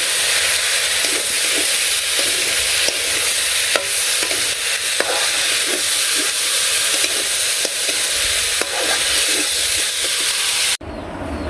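In a village kitchen, ginger-garlic paste, chopped onion, green chili, salt, turmeric and chili powder sizzle loudly in a pan. Scattered scraping ticks from stirring run over the steady hiss, which cuts off abruptly near the end.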